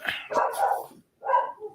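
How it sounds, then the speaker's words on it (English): A dog barks indoors, looking out a window at something outside, giving two close, loud barks separated by a short pause. "And what's your dog barking at?"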